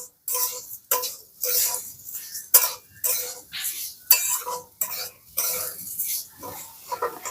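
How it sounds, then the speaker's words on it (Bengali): Grated coconut and sugar being stirred in a pan for a sweet filling, with a series of regular scraping strokes and light clinks of the spoon against the metal, fairly close and with no talking. "আর নাড়তে নাড়তে যতক্ষণ না পাক আসছে ততক্ষণ আমি এভাবে একটু নেড়ে নেব"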